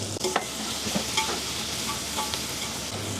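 Onions and garlic frying in a pan on the stove, a steady close sizzle under irregular scraping and clinks as the pieces are stirred, with no voices.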